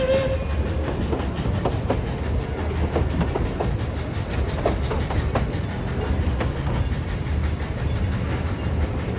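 The Puffing Billy steam train in Australia rumbles steadily along with clattering, rhythmic wheel noise and a brief tone near the start; continuous and fairly loud throughout.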